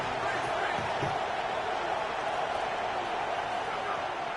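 Stadium crowd in an NCAA college football video game: a steady, distant roar of many voices with broadband cheering that holds level throughout, no distinct individual talk.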